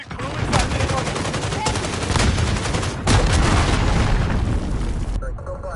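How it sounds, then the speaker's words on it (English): Heavy gunfire and booming blasts from an enemy crew fill a combat video game, dense and continuous with sharper shot peaks, while voices talk over the barrage. "Enemy crew is firing on you"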